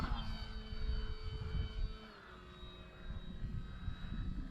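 An OMP Hobby Super Decathlon RC airplane's electric motor whines at takeoff, a thin rising and shifting tonal buzz over wind and ground rumble, fairly faint and steady across the few seconds.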